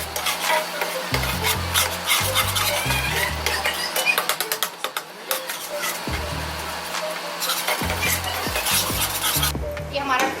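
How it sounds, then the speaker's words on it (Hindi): Chopped tomatoes frying in masala in a pan for chicken tikka masala, with loud scraping stirs against the metal and a hissing sizzle, broken by low knocking bumps and a steady background hum. "ये हमारा टमाटर अच्छी तरीके से इसमें भुन रहा है।"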